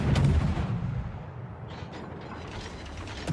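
Naval gunfire in World of Warships as a Z-46 destroyer reverses to fire broadside at the Salem: a loud, booming opening burst with mechanical clanks, then a sustained low rumble and rattling churn.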